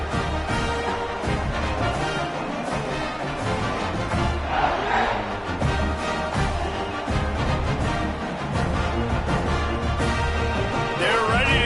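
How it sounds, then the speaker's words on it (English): A stadium crowd in an NCAA football video game buzzes loudly after a score, a dense, continuous roar of cheering voices that holds steady throughout. "this crowd is buzzing after that last score"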